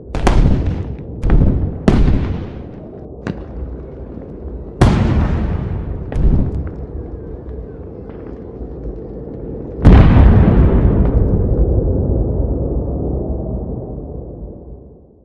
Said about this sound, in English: the weight of that intro? With the explosions and the wind howling